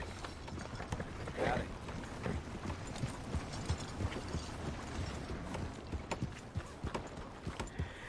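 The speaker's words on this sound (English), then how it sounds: "We pick up our horse Pebbles, who's an amazing girl." Hooves of Pebbles, a horse in Red Dead Redemption 2, clip-clop steadily at a walking pace over ambient game sound, with faint mechanical clicks mixed in.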